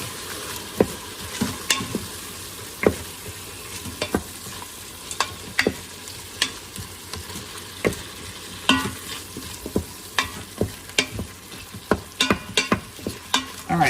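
Food sautéing in a pan, a continuous close sizzle punctuated by sharp clicks and taps of a utensil stirring, with no talk.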